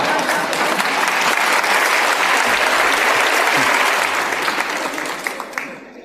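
Audience at a motivational talk breaking into loud, sustained applause, dense clapping filling the room for several seconds before gradually thinning out at the end.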